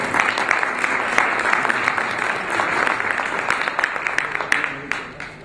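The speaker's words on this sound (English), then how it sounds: "A big round of applause because he shared his wisdom with us again" At an expo, an audience breaks into strong applause, many hands clapping in a dense, lively patter that carries for several seconds before starting to fade.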